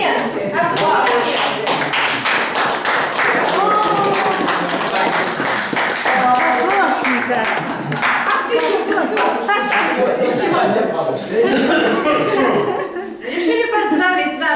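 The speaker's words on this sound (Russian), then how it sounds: "Аплодисменты. Аплодисменты." An audience applauds steadily and loudly at a 70th birthday celebration featuring the Buranovskiye Babushki, with chuckles, laughter and voices mixed into the clapping throughout.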